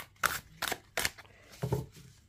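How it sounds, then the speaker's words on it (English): Four quick, crisp clicks from matte tarot cards on a thin cardstock, close and fairly quiet, spaced at an irregular rhythm as they are shuffled. "I love that click, click, click when I'm shuffling cards."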